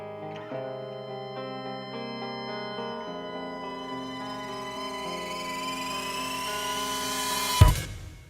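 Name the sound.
synth riser sound effect in beat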